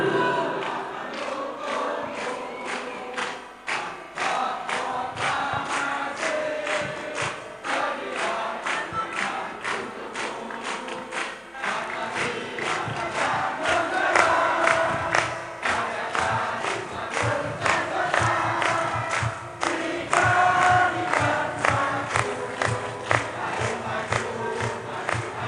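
A crowd at an Islamic religious gathering does a rhythmic chest-clapping cheer, with repeated patting beats and chanted voices rising together in loud, continuous waves.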